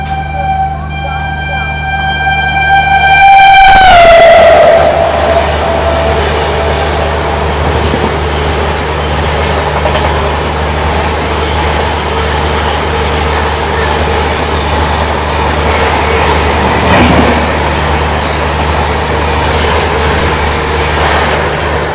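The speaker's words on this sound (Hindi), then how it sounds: "ये आ गई सियालदह राजधानी एक्सप्रेस ओवरटेक करने।" Sealdah Rajdhani Express overtaking on a parallel track, its horn sounding loud and close with a falling pitch as it passes, then a long steady roar and rattle of coaches rushing by, with the rumble of the waiting train underneath.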